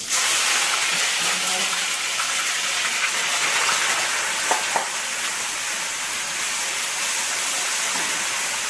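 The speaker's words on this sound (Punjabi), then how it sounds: "ਤੜਕਾ ਲਾਣ ਲੱਗੀ" A tadka of cumin and spices sizzling in hot oil for chole, a bright, steady frying hiss throughout with a couple of small pops midway, no voices over it.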